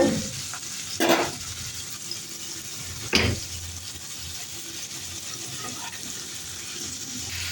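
Diced medium potatoes frying in a wok, a steady close sizzle with two sharp clatters of stirring near the start and middle, no voices.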